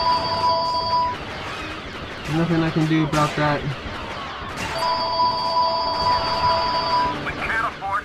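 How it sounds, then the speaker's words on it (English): A phone rings in the room during a round of the Star Wars Battlefront II video game. Two sustained electronic ring bursts come through, with someone talking and game blasts and crashes in between. "phone ringing."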